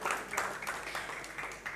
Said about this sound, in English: An artist applauding for the other artist right there.